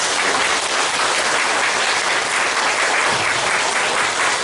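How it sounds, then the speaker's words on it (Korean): Sustained applause from a church congregation welcoming a new member at a Sunday worship service, dense steady clapping throughout with no pauses. "우리 환영의 박수 부탁드리겠습니다."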